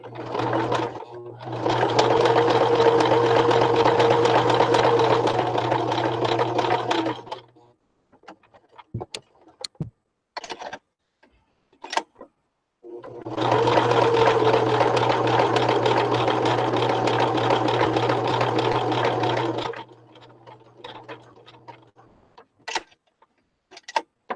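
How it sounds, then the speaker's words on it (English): A sewing machine runs a zigzag stitch across fabric for a shabby chic clutch in two long steady bursts of about six seconds each, separated by a quieter gap of small clicks and handling noises. "let's go back to the zigzag stitch"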